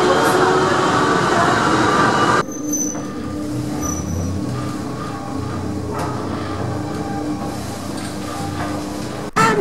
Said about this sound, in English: Here's another train which is just sitting here in the tunnel.